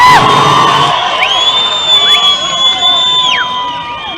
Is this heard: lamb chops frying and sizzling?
no